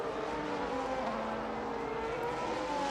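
A Ferrari race car in a racing video game cruises steadily at moderate pace to warm its tyres, a continuous engine drone with smooth harmonic tones that shift gradually in pitch, no voices present.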